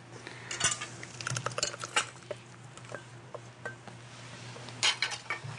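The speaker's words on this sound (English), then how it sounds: "I'm going to strain the sauce." Chile sauce is strained in a kitchen, with busy clinks and scrapes of metal utensils against pots and a strainer, irregular bursts over a low steady hum, no talk.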